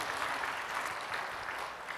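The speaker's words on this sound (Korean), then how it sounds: "박수 한번 해줘요." A church congregation applauds during a pastor's sermon, a soft, even wash of clapping that carries steadily for about two seconds at a modest distance, with no speech over it.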